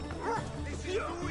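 A dog yelps and whimpers in short high cries inside the Assassin's Creed Odyssey video game, several brief yips over a steady game background, fairly close.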